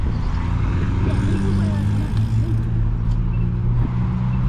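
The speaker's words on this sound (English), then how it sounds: "All these cars." Road traffic heard during a bike ride, a steady low rumble of cars passing close by, with a person talking over it.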